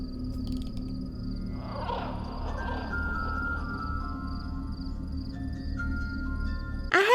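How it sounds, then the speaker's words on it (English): A cheerful tinkling music-box melody from the horror game Pumpkin Panic plays steadily over a low droning ambient bed, with a sudden bright burst at the very end. "A happy little music box melody"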